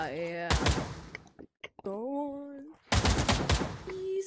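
Bursts of rapid automatic gunfire ring out in a video game gunfight, loud and close, in two main volleys broken by a short lull, with people talking over and between the shots.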